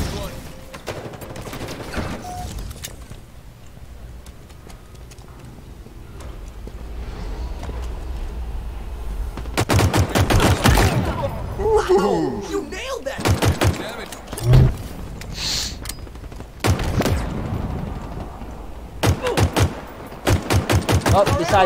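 Gunfire in the shooter game Halo Infinite during online matchmaking: loud bursts of rapid automatic fire and single shots come in clusters, with explosions and effects between them, while players talk over the action.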